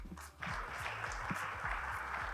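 Audience applause on stage at a corporate customer-experience event, a dense steady clapping that starts after a brief lull, with a low voice or music underneath.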